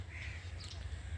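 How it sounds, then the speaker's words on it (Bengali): A crow caws briefly and faintly from a tree beside the Chattogram railway junction, over a low, steady outdoor rumble. "নানা পাখির ডাক শুনতে পাচ্ছি আমরা"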